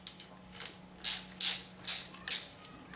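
A ratchet tightens bolts on a Nissan SR20DET engine, giving about five crisp, close clicking bursts in an even back-and-forth rhythm over a quiet hum.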